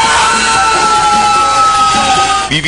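A loud, sustained scream in a TV drama rings out at full volume for more than two seconds, then breaks off abruptly at the end.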